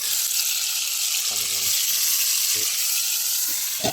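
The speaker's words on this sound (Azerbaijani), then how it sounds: "İndi hazırda pomidor yumurta pişiririk." Loud, steady sizzling of food frying in a hot pan, with a brief faint voice and a couple of soft knocks.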